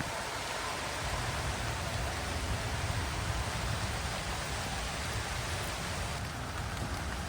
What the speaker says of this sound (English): And the rain's just pummeling down right now, so I have to take a break.